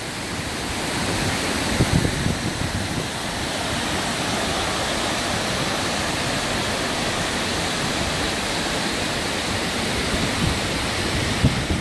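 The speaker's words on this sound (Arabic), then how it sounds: "هذا شلال وخوانق جورجس، في ما زلنا في مدينة سيون السويسرية" Waterfall in a gorge near Sion, Switzerland, a steady, loud rush of falling water filling the whole clip without any break, with no voices over it.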